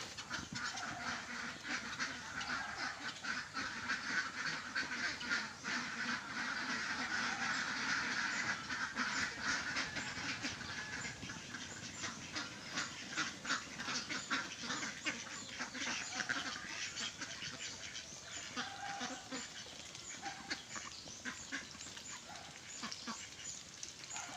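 A flock of domestic ducks being let out to feed, a dense continuous chorus of overlapping quacks at moderate distance, busy and steady throughout with no clear speech.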